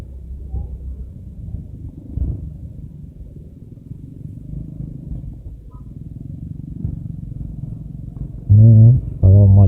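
Motorcycle rumbling steadily along a rough, muddy, rocky road full of deep potholes, low engine drone continuous and close, with louder bursts near the end.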